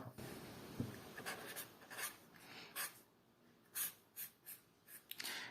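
Numbers for a division problem written by hand, quiet close scratching strokes in short bursts, faint and with no talking.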